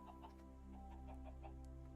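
Chickens clucking in a video game, several short soft clucks in an irregular rhythm over a steady low background hum, faint and close.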